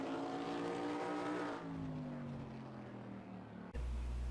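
Race cars on pace laps around the Charlotte ROVAL in a racing video game: engines drone steadily with a falling pitch as a car passes, then a sharp jump to a louder, nearer engine roar at the end.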